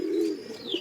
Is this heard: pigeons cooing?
yes